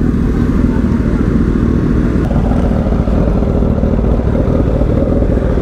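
A superbike engine runs steadily and loudly close by at a motorcycle meetup in Kolkata, a continuous low throbbing rumble that lasts throughout with a busy crowd around it.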